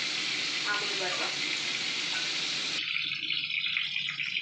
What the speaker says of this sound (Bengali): বাটার আর সাদা তেল দেওয়া রয়েছে, তার মধ্যে চিকেনটা একটু ভেজে নিচ্ছি হালকা করে।